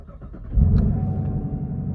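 A 2020 black Chevrolet Camaro LT1 V8 engine barks into a loud, deep rev after a quiet moment, then holds a rumbling, throaty idle up close.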